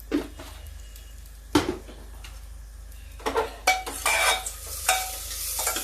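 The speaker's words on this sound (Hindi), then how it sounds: "ये सब प्याज भगोड़ी सारी एक साथ भून लेते हैं" Onion and urad dal vadis frying with mustard seeds in a pan, a steady sizzle broken by scraping stirs and clinks of a utensil against the pot, busier toward the end.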